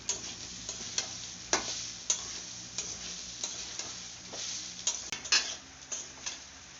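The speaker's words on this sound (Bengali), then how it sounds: "এবার চালটাকে আমি একটু ভালো করে ভেজে নেব।" Gobindobhog rice frying in a pan, with a steady soft sizzle broken by regular scraping clicks from a spoon stirring the grains. The sound is close and moderately quiet, with no voices.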